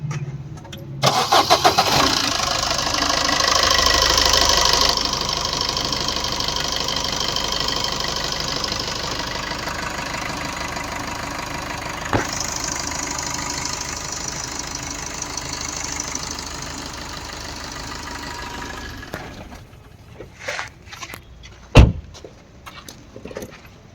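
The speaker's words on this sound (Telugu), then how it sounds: "engine sound" A car engine cranks and catches, then idles steadily for a long stretch before a few knocks and clicks near the end.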